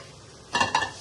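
Green chillies, ginger-garlic paste and curry leaves frying in a pan, a quiet sizzle broken by two close stirring scrapes in quick succession.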